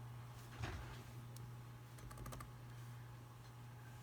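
Quiet keystrokes on a computer keyboard, a lone press followed by a quick cluster of taps, over a steady low hum.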